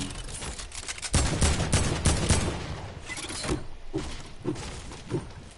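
Gunfire in a Fortnite match during a competitive tournament: a dense run of sharp shots and bursts fills the first half, then scattered single cracks follow at intervals, fairly loud and close.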